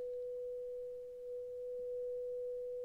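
A struck tuning fork rings with a single pure, steady tone, held at an even loudness for about three seconds over faint background hiss.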